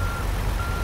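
A truck backing up a trailer in American Truck Simulator, a steady low engine rumble with a high reversing beep tone running through, close and continuous with no talk.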